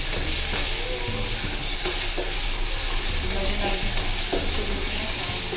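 Onions frying in a pan while being stirred. A loud, steady sizzle carries irregular spatula scrapes and knocks throughout, with no talking.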